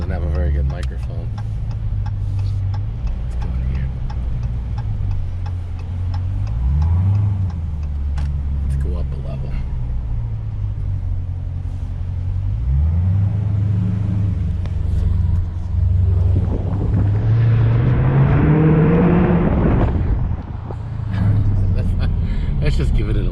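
Dodge Challenger 392 V8 with Dynomax Race Bullet mufflers rumbling steadily at idle, with throttle blips rising and falling around 7, 13 and 18 seconds; deep, loud and close throughout.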